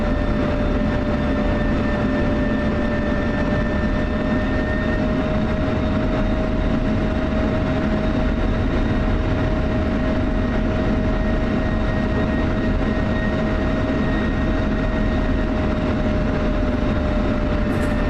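An F-16 taxis toward runway 5 in a flight simulator game, giving a loud, unbroken jet engine drone with a steady high whine over a deep rumble, constant from start to end.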